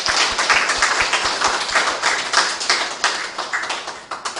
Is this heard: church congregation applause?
yes